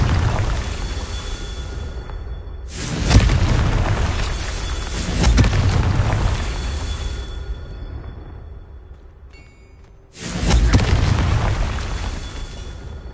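Confringo fire spells exploding in Hogwarts Legacy on PS5: two heavy booming blasts a few seconds apart, each rumbling and decaying under a low background wash.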